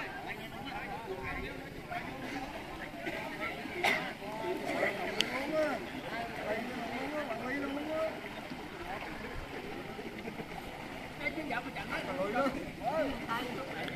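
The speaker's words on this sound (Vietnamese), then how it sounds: "bây giờ thì đang bơi ghe dần dần ra ngoài để chuẩn bị xuất phát nha cả nhà" Oars paddle a wooden boat slowly out across open water in Vietnam, quiet splashing and knocking strokes at a loose rhythm under voices talking nearby.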